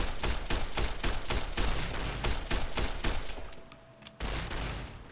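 Rapid, loud bursts of caravan shotgun fire from Fallout: New Vegas ring out in a steady rhythm of about a dozen close blasts, with a brief lull before one more shot.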